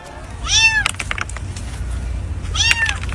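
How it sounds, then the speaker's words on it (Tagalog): A cat rescued from earthquake rubble in Colombia gives two distinct, close meows about two seconds apart, with faint background noise and clatter between them. "isang pusa rin ang matagumpay na na-rescue ng mga otoridad"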